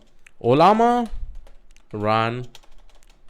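Computer keyboard typing while entering a command for running local language models; someone talks through most of it, with faint, sparse key clicks heard in the pauses and at the end.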